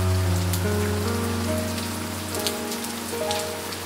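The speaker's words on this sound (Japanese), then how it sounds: "ひどい雨だね。" Heavy rain pours steadily on surfaces, a dense hiss with scattered drops, under a sustained low musical drone.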